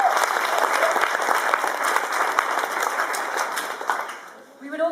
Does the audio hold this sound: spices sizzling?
no